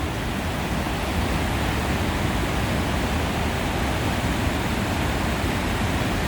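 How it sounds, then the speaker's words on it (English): A waterfall pours in a loud, steady broadband roar that never lets up, heard close with no voices. "so I thought I'd bring you to see this waterfall."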